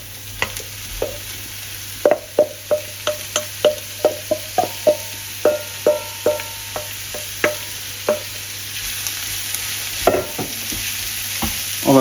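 Ground meat browns in a pan with bolognese sauce for hachis parmentier, with a steady sizzle and a series of regular utensil scrapes and taps as it is stirred, close by.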